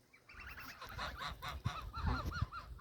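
Several geese honk repeatedly in a noisy cluster, close by, with overlapping calls and some low rustling underneath.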